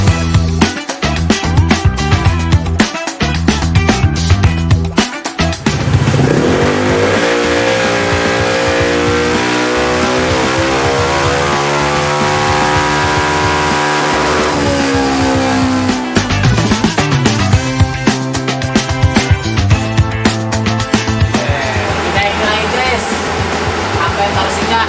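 A Vespa Sprint scooter engine with upgraded CVT revs hard on a dyno and holds high, its whine climbing and settling, then drops back and rises again with throttle blips, loud and close.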